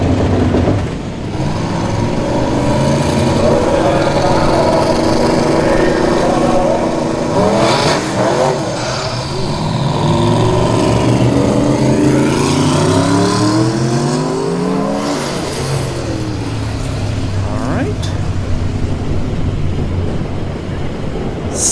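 A second-generation Chevrolet Camaro drag racing at a motorsports park, its engine roaring loudly as it accelerates down the strip with rising and falling revs through gear changes, heard close and sustained.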